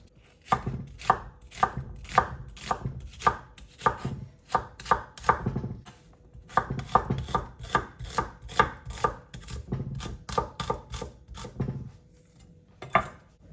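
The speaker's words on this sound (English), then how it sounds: "So nothing complicated, just thinly sliced onion pieces." A knife thinly slices onions on a cutting board, producing a rapid series of close, crisp chops in uneven bursts with a few short pauses.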